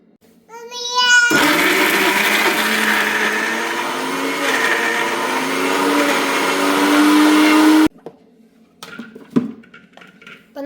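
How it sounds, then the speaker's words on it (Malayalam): A kitchen mixer grinder chops tender jackfruit pieces in a jar, a loud steady whirring motor roar running for about six seconds before cutting off abruptly, with a child's babble heard before and after. "ഇനി ഇതൊന്ന് മിക്സിയിലിട്ടിട്ട് ഒന്ന് ചെറുതാക്കി എടുക്കട്ടെ"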